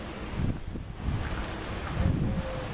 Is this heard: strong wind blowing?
yes